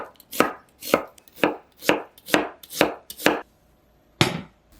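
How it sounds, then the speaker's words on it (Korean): A knife slices onions on a board in seven steady, evenly spaced strokes, then one more after a short pause, close and crisp. "양파 3개는 반으로 자른 다음 가늘게 써세요"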